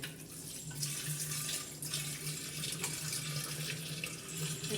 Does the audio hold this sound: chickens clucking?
no